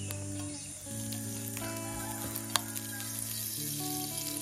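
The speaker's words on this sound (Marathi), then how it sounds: "मी आता पॅनवरती 1 चमचाभर एवढं तेल घालते आणि काही कढीपत्त्याची पानं घालते" A spoonful of oil with curry leaves sizzles quietly in a pan, a faint, even hiss with a few small crackles and one brief tap, with no voices.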